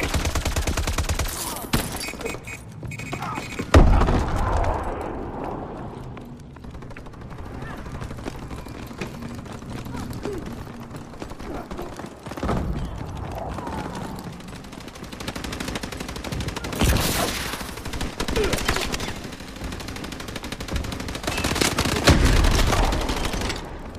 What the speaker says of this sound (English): bombing run overhead.